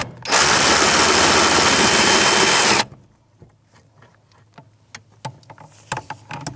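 A power tool with a 10mm socket spins loud and close for about two and a half seconds, removing bolts from the pedal assembly of a 1992-1996 Ford F-150 pickup, then gives way to faint clicks and handling noises.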